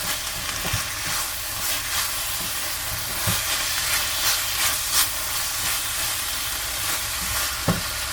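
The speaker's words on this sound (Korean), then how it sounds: "열심히 볶아줍시다." Gochujang meat udon being stir-fried in a pan, a steady loud sizzle and hiss with occasional scraping stirs throughout, no voices.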